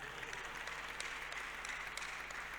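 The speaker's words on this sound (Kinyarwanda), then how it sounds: "Amashyi ku Mana yacu." A church congregation claps in applause during a worship service, a steady, dense patter of many hands heard fairly faint and distant throughout.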